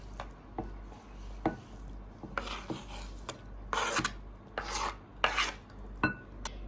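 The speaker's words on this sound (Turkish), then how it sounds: "kestiğim çok ufak domatesleri kaseye alıyorum ve biberleri doğramaya" Knife strokes chopping peppers on a board, a mix of sharp chops and short scraping rasps, irregular and close, with no voices.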